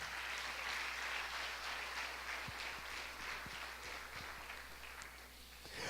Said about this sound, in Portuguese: Quem pode dar outra salva de palmas para o Senhor?